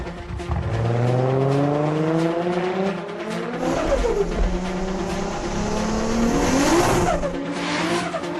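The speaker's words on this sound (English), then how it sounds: "I'd never had to work so hard at driving sideways." A race car drifting sideways on a wet UK drift circuit in the rain, engine howling and revving hard with tires squealing and skidding, loud and continuous throughout.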